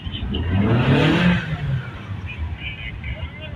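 A Mitsubishi Lancer engine idling steadily after a crankshaft sensor replacement, a continuous low hum with a brief swell early on, while someone talks over it.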